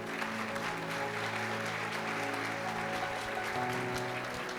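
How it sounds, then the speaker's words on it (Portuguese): A church congregation applauds continuously over sustained music with steady tones, the clapping dense and full throughout rather than standing alone. "Você pode aplaudir o Senhor aí,"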